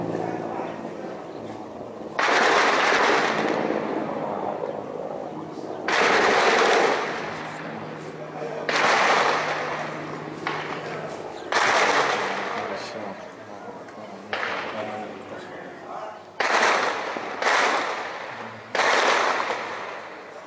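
Repeated loud bursts of gunfire ring out over Daraa, Syria, in July 2012, several separate volleys a few seconds apart over a low steady background hum.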